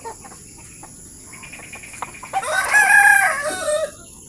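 A Belgian Black rooster crows once in a loud, drawn-out call midway through, with insects and crickets chirping steadily in the background of a backyard farm.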